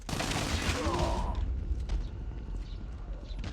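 An MSMC submachine gun in the video game Call of Duty rattles off a burst of rapid fire, loud at first, then falling away to scattered lighter shots and clicks.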